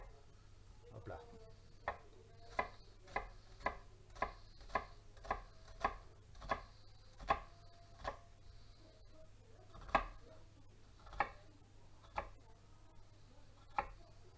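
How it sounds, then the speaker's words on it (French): A knife finely chopping an onion on a cutting board, a steady run of crisp close taps at a regular rhythm with a few louder strikes, quiet overall with a low background hum. "L'oignon, je vais le ciseler."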